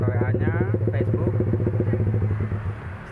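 A Yamaha Jupiter MX King 150 motorcycle fitted with an f2racing exhaust idles with a deep bassy, rapid regular putter close by, easing slightly toward the end.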